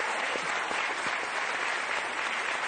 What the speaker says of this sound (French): On va applaudir Georges Gagnidze.